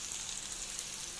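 Ground spices with asam kandis fry in a pan for a Sumatran-style gulai, giving a steady, even hiss and crackle of sizzling oil at moderate volume with no voices.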